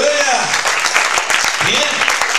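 Congregation applauding the Lord during a sermon, steady dense clapping mixed with shouts and voices throughout.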